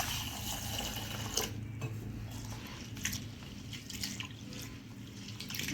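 Water splashes and swirls in a bowl with light clinks as moong dal is rinsed by hand, steady and close, with no talking.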